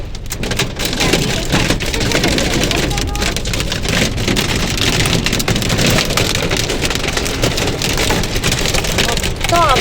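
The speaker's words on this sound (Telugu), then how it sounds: "వచ్చేటప్పటికి వడగల్లు వర్షం అయితే పడుతుంది ఫుల్గా ఐస్ ముక్కలు అయితే పడుతున్నాయి" Dense, heavy pelting of hail and rain on hard surfaces, a continuous loud clatter with sharp impacts throughout, no voices.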